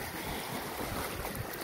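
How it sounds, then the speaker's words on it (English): Sea waves wash over rocks beside a rock pool on the Anglesey coast, a constant broad roar mixed with gusting wind buffeting the microphone, with no voices. "you can see the waves coming over."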